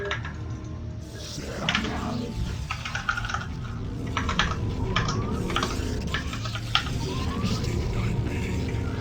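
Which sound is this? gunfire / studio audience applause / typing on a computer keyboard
typing on a computer keyboard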